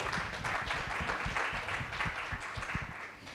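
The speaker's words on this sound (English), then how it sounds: "A round of applause for him." Applause from an audience at a roundtable on gas flaring and methane emissions, a moderate crowd clapping at an uneven rhythm with several sharp individual claps standing out close by.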